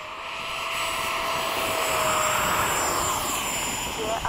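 F/A-18 fighter jets taking off in formation, a sustained loud broadband jet roar rising and holding steady throughout with a high whine on top.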